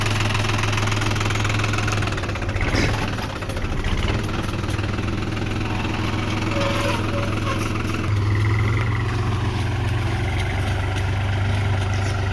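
A tractor engine runs steadily in a farm field during groundnut sowing, a loud, close, continuous mid-pitched idle with a knocking rumble and slight variations in load.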